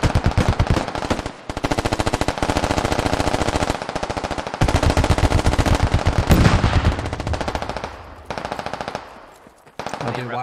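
Sustained automatic gunfire aimed at a building in the Squad military shooter, loud, close bursts of rapid shots with brief pauses between them, ending in a short lull before firing resumes.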